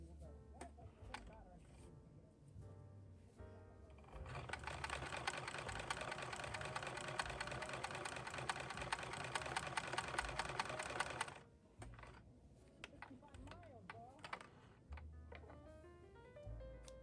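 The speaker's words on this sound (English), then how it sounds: "Once you've sewn your first 2 scraps down with a 1/4 inch seam allowance" A sewing machine stitching fabric scraps runs in one fast, steady burst of about seven seconds, close and loud, framed by quieter handling clicks and rustles before and after.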